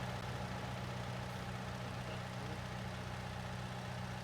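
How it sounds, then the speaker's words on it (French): The engine of a Manitou telehandler on a farm runs at a steady idle with a low rumbling hum. The sound carries on unbroken at a moderate level, and no one speaks over it. "Donc là, je vais prendre le Manitou."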